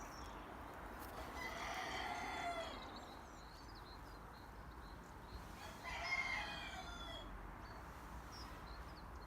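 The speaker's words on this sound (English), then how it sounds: "Any of those cockerels." Cockerels crowing at an outdoor allotment, two drawn-out crows a few seconds apart rising over steady background noise, moderately distant with no talking.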